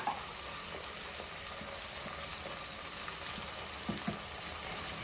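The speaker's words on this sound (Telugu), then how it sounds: "అలా అంతా ఆనియన్ బ్రౌన్ కలర్ వచ్చేదాకా వేయించుకోవాలి" Onions fry in a pan for a country chicken curry, giving a steady, soft sizzle with occasional faint stirring clicks and no talk.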